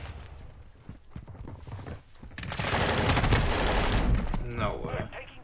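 Rapid bursts of shotgun fire from a Call of Duty match, with clustered blasts building into a dense stretch of gunfire amid game noise.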